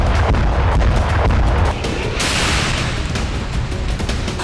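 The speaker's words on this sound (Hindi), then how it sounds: "एक ही प्रहार से 10 बमों जैसा विस्फोट।" Heavy, rumbling blasts from bombing in the Russia-Ukraine war roll out loud and dense, a sustained thunderous roar that shifts into a hissing, crackling wash of debris and lingering noise.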